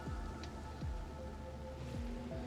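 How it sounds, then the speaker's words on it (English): Steady rain in the game Punishing Gray Raven, a dense, even hiss of falling drops at moderate volume, with low descending swooping tones beneath and no talk. "Black rain scatters through the air"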